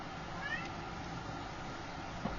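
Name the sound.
cat meowing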